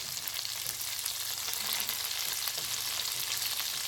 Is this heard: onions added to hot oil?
yes